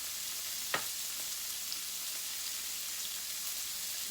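Bacon frying in a skillet gives a steady, soft broadband sizzle throughout, with one brief sharper crackle or pop near the start; no one speaks.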